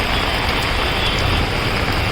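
Heavy monsoon rain pours down in Mumbai near a small temple and a row of shops, a dense, steady hiss that stays loud and even throughout with no voices.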